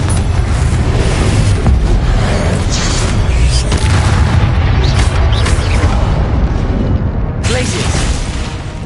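Fiery Confringo spell blasts in Hogwarts Legacy combat, a dense, loud, continuous run of booming explosions and impacts over the whole stretch, with a brief lull near the end before the blasts resume.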